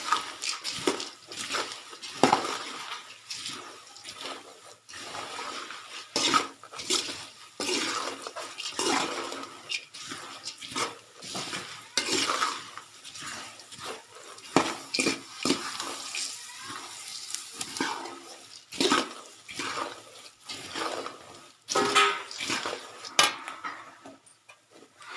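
Puffed rice (churumuri) is stirred in a bowl, giving a run of scraping rustles and light clinks of a spoon against the bowl, irregular and close, with quiet pauses between strokes.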